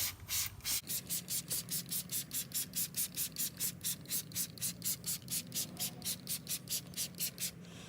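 Rapid, rhythmic spray-bottle pumps of wheel cleaner, about four quick hissing squirts per second, close and steady throughout, with no voices.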